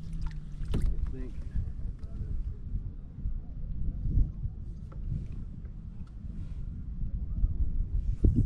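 A new kayak moving on water in wind, with low rumbling wind buffeting and soft water sloshes from paddling, plus occasional splashes and knocks, close to the microphone.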